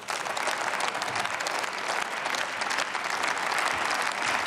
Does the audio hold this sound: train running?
no